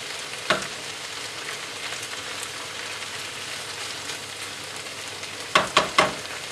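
Vegetables with green pepper frying in a pan for a quinoa curry veggie burger: a soft, steady sizzle throughout, with a sharp stir or toss near the start and a quick cluster of three scraping clatters near the end.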